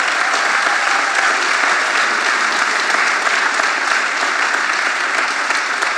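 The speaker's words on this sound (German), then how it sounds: "Das hat in der Tat einen Applaus verdient." Audience applause at a political event with counter-demonstrators outside, a dense, steady clapping that fills the whole stretch, loud and close with no voices over it.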